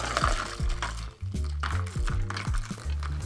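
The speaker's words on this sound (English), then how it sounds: "then what we'll do is we will just free pour this on top" Jamaican rum cocktail is free-poured from a bottle over ice already in a rocks glass, a close, continuous gurgling glug with rising pitch and small ice clinks.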